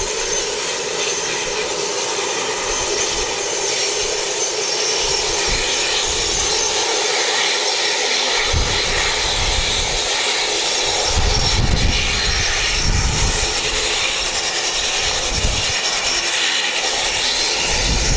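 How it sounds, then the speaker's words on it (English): An ATR turboprop airliner, registration ZK-NZD and about two years old, at Wellington Airport, heard as a steady broadband engine roar that holds throughout with a low rumble swelling in the middle and later, no talk. "ATR on the way."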